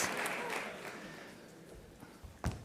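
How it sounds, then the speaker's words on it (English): Applause from an audience greeting volunteers called up on stage at a live show, a dense wash of clapping that is steady at first, then thins and fades out, ending with a few isolated claps. "let's give these volunteers a nice round of applause"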